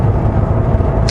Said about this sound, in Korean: 카랑카랑하게 들리는 이 배기음을 들으면서